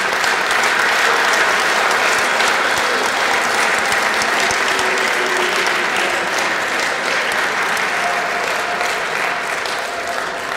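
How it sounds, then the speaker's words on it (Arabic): Sustained applause from a school audience at Abu Tammam school, dense and steady clapping filling the whole stretch at close range, with no pause. "تصفيق حق مدرسة بتمام"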